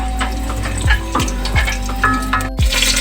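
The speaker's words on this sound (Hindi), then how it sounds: "लहसुन का कलर आके अब ज़ीरा और हरी मिर्ची डाल के इनको अच्छे से फ्राई करेंगे" Garlic, cumin seeds and green chillies frying in oil in a pan, with a steady sizzle broken by a few sharp clinks and scrapes of a spoon stirring, close and loud, with no talk.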